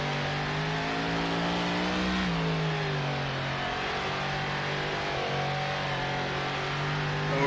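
A 1930s prewar race car in Assetto Corsa drifts through a corner, its engine droning steadily and close. The pitch dips and rises as the revs change, with no talk.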